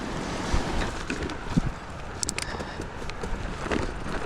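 A flowing stream in northern Norway, met while crossing on a summer bike trip, rushes steadily as broadband water noise under gusty wind buffeting the microphone, with a few brief knocks and clicks and no talk.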